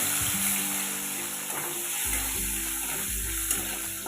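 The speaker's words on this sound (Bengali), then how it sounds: "ফোড়নের জন্য আমার লাগছে একটি শুকনো লঙ্কা, গোটা জিরে, পেঁয়াজ কুচি দিয়ে ভেজে দেব।" Dried red chilli, whole cumin and chopped onion frying in hot oil give a steady, close sizzling hiss that runs throughout, with soft background music underneath.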